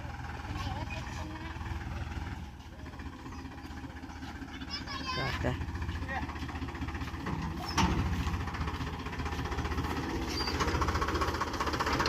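A tractor engine runs at idle close by, a steady low rumble throughout with someone talking over it.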